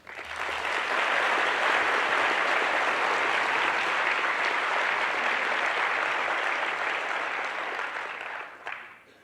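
Loud, sustained applause from a large audience in an auditorium at an international astronomy assembly in South Africa, steady and dense for about eight seconds before tapering off at the end.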